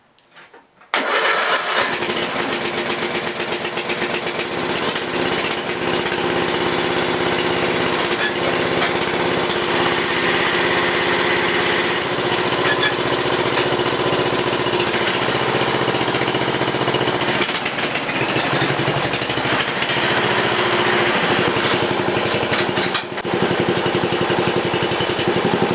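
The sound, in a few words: off-road lawn mower engine starting and running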